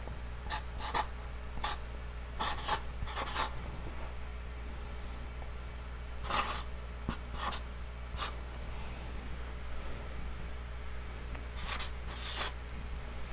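Pen scratches out numbers on paper in short, quiet bursts of strokes separated by pauses, close by and with no talking.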